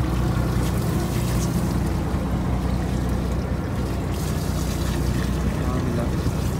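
Steady drone of a boat engine out at sea on an offshore jigging trip in Japan, a constant low rumble with wind and water noise, loud and continuous throughout.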